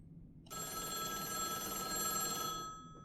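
Telephone ringing inside an Indonesian video game played during a Hungry Ghost Festival stream, an electronic bell-like ring starting abruptly and sustaining for about two seconds before fading, clear and steady over a quiet background.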